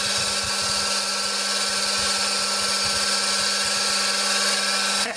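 A repaired half-horsepower three-phase electric motor, rewound after burning out, runs with a steady, close, high-pitched whine and a faint rhythmic flutter underneath, then cuts off abruptly after about five seconds.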